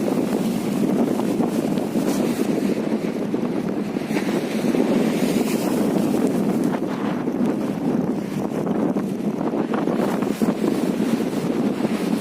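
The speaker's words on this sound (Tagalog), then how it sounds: "Lakas ng alon." Heavy water churning and surging against a boat in strong waves during monsoon winds at Pasacao fish port, Camarines Sur, under constant gusty wind roar, a dense unbroken rush throughout.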